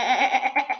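A person's voice imitating a goat with a single short, wavering bleat, close and fairly loud, lasting under a second.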